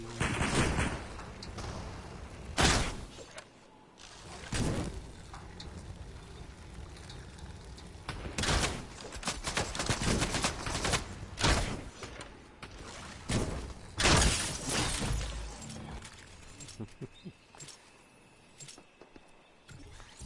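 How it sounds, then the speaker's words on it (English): Gunfire in the video game Fortnite, sharp loud shots cracking out in irregular bursts and single reports over roughly twenty seconds, some clustered tightly together, with no talking. "Someone's shooting at me."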